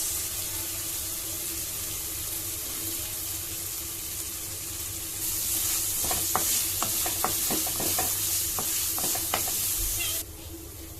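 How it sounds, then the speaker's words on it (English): Onions frying in a pan for dal makhani make a constant close sizzle, joined midway by a louder wash of crackle and a series of sharp scraping stirs before it settles back to the quieter hiss. "Now I'm gonna add onions."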